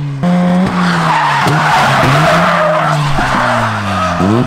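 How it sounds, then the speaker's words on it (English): A rough-running Mazda RX8 engine strains and revs unevenly, with wavering pitch and tire-squeal-like tones, loud and close with no talking. "This car sounds so pathetic."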